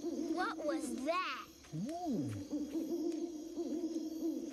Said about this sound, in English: That's a bird called an owl.